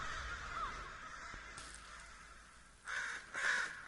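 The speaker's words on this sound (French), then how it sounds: "Les petits oiseaux." Crows caw a few times in the video game Death Stranding, some faint and distant, then two louder calls near the end over a quiet background.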